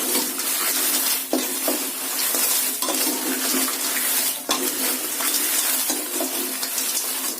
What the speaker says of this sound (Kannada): ಮೆಣಸಿನಕಾಯಿಗೆ ಎಣ್ಣೆ ಉಪ್ಪು ಏನು ಹಾಕ್ತೆ ಪ್ಲೈನ್ ಆಗಿ ಹುರಿತಾ ಇದ್ದೀನಿ.